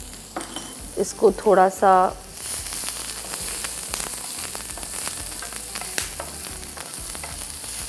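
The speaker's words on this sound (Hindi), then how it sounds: "तेल गरम हो गया है तो अब हम डालते हैं हमारे चॉप्ड अनियन" Chopped onions dropped into hot oil: a short spoken phrase comes first, then a loud, continuous sizzle sets in, with scattered clinks of a utensil against the pan.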